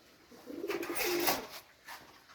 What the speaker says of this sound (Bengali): ভালো কোয়ালিটি ইম্পোর্টার পাকিস্তানি কিছু কবুতর আমি আপনাদেরকে দেখাবো